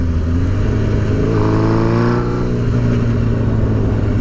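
An old school bobber motorcycle with a 1950s chopper style rumbles steadily while being ridden, its loud, continuous engine drone holding close throughout with a slight rise in revs midway.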